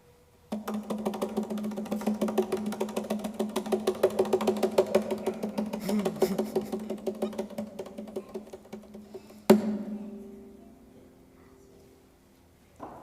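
A prize wheel spun fast, its pointer clicking in a rapid rattle that gradually slows, followed by a sharp knock and a fading ring as it stops, heard at a Friday evening Shabbat service.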